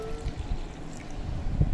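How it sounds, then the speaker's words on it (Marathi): Vegetable cooking water is poured into a strained mixed vegetable soup, a close, continuous splashing pour with a low rumbling body lasting about two seconds. "हे सूपचं पाणी भाज्या शिजवताना वापरलं होतं, ते पाणी मी आता ह्याच्यामध्ये घालते"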